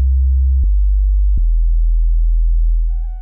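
Flat, pure synthesized sub bass tone droning steadily and loudly, with two brief clicks and a faint higher tone near the end.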